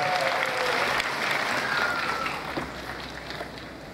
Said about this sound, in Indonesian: Gak usah malu-malu tepuk tangan karena makin sehat